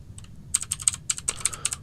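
Rapid keystrokes clatter on a computer keyboard, a short uneven burst of crisp clicks close up with a brief pause near the start.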